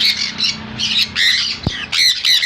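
Loud, harsh squawks of conures and other parrots repeat in bursts inside a bird shop, several birds calling close by with brief gaps between shrieks.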